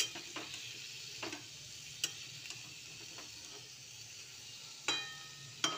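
Vegetables fry gently with panch phoron in a pan, giving a quiet, close sizzle broken by scattered clicks and scrapes from a spatula as they are stirred, with no voices.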